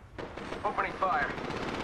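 Automatic gunfire from Apex Legends gameplay, a dense rattling burst of rapid shots sustained through the clip with other game sounds mixed in, loud and close.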